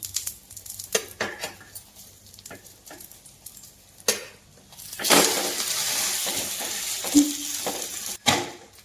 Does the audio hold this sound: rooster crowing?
no